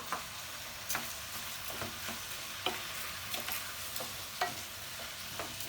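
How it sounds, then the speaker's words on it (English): Rice sautéing with onion in a pan gives a soft, steady sizzle, broken by periodic light scrapes and taps as it is stirred, fairly quiet with no voices. "Even the rice, when you put it, it's gonna saute with the onion."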